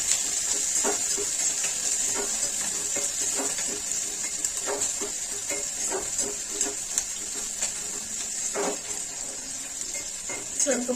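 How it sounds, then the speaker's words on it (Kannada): Chopped onion fries in oil in a pan for upma, a steady close sizzle and hiss with scattered crackles and occasional stirring scrapes. "ಈಗ ಎಣ್ಣೆಲ್ಲ ಸ್ವಲ್ಪ ಫ್ರೈ ಆಗಲಿ."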